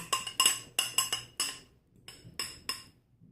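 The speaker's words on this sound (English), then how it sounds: "we're just going to whisk this up, use a fork, and just stir until it starts to become a dough-like consistency" A fork clinks sharply against a bowl while stirring carrot cake cookie mixture, giving about a dozen bright, close metallic taps in quick uneven bursts with brief pauses between them.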